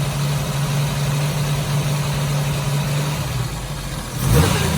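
A 1983 Jeep CJ7 engine idling with an ignition misfire: a steady, slightly uneven low rumble held close and loud, swelling into a brief rev near the end.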